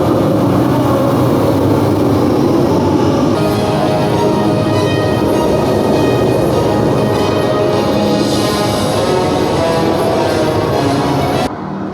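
Ride trains roll past at a Disney theme park near Goofy's Barnstorm. A loud, continuous rumble of wheels and machinery runs throughout, with a broad clattering wash that thins out abruptly at the end.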